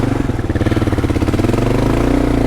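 An adventure motorcycle on Bridgestone AX41 tyres spins its rear wheel in mud, the engine loud and close, pulsing rhythmically as it revs and labours for grip.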